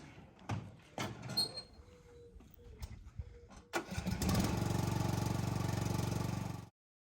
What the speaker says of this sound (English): open the fuel valve, close the engine hood, and start the vehicle